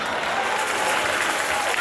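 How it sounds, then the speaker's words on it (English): Audience clapping at a gospel praise concert at a university, a steady dense wash of applause throughout with a faint voice underneath. "I thought you would clap for us."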